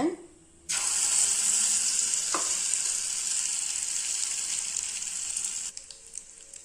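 Egg and chutney omelette batter hits a hot pan and sets off a loud, steady sizzle that holds for several seconds, with a brief stir or scrape partway through and the frying easing slightly near the end.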